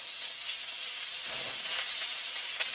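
Food sizzling in a skillet that is a little too hot, a steady bright hiss with faint crackles rising and falling, close and fairly loud with no talk.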